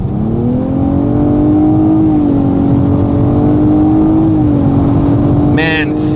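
A 2016 Nissan Maxima SR engine roars loudly and steadily, its pitch climbing as it accelerates, with a brief higher burst near the end.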